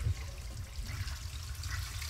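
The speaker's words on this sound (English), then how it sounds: "Toilet flushing." A toilet flushing nearby, a steady low rushing of water that runs for about two seconds at an even level, with no talk.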